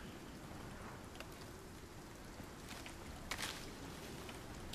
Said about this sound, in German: Oh, jetzt kommt wieder starker Regen.